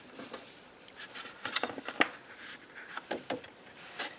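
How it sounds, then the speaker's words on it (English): Scissors snipping through folded paper card while making a four-fold card: a handful of quiet, short crisp cuts spaced irregularly, close by, with no talking. "I'm just going to snip here"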